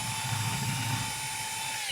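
A power drill with a bit bores a hole in a plastic gas can, giving a steady, continuous high whine that is loud and close throughout, alone and without any talking.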